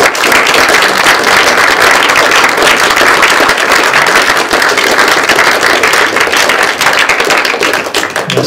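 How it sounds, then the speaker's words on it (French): Sustained, dense applause from an audience at a book talk and signing fills the space loudly and evenly, with no voices rising above the clapping. "Je pense qu'on peut applaudir."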